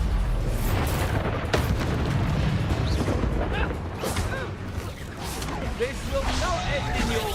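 Spell explosions in the Hogwarts Legacy video game: a series of booming blasts and bursts, loud and close, layered over ongoing game combat noise and character voices.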